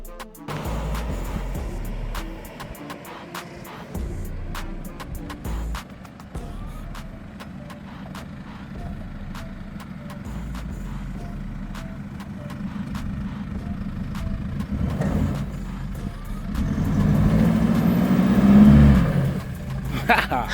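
Toyota Land Cruiser 79 with the 2.8 GD-6 diesel engine climbing an off-road mountain track, a steady low engine drone that swells louder toward the end under bursts of wind and people talking.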